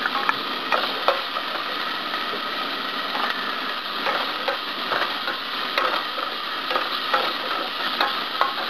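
Onion sautéing with ginger and garlic in a pan for a Filipino bachoy pork dish, a steady bright sizzle broken by frequent scraping and clacking stirs, close and alone.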